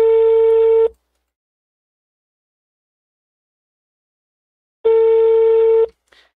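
A telephone ringback tone sounds during a prank call: two loud, steady electronic rings about four seconds apart, each lasting roughly a second, with silence between them.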